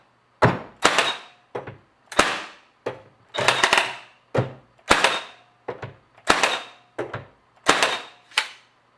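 Milwaukee M18 cordless finish nailer firing nails, a series of about a dozen sharp, loud close-up snaps and thunks spaced at short irregular intervals with quiet gaps between, no talking.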